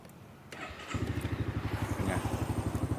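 A Honda Forza 300 second-generation scooter on its stock exhaust starts up, then settles into a steady, throbbing idle with a rapid, even pulse close by.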